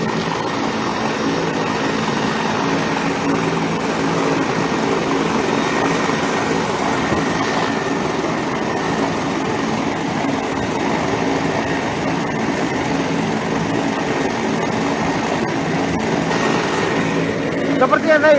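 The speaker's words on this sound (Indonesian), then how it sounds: "helikopter saat ini sudah siap lepas landas Tribuners" A helicopter readying for takeoff on an evacuation mission in Kerinci, Jambi runs loud and steady, its rotor and turbine roar filling the scene with a continuous dense wash and faint voices underneath.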